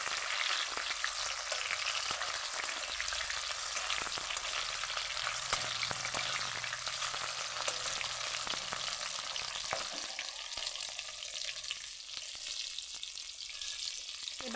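A flour-based snack mixture (topka) frying in oil in a pan while being gently stirred, giving a steady, close sizzle that runs throughout, with soft scraping from the stirring.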